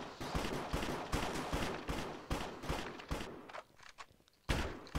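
Gunfire in a cops-and-criminals shooter game: rapid bursts of shots and thuds in quick succession, loud and close, briefly easing before another sharp burst near the end, with no talking.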